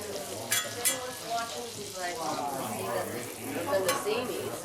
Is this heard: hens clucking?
no